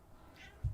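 A pet cat named Faye gives a single short meow near the end, close and fairly soft, after a quiet stretch with faint room noise.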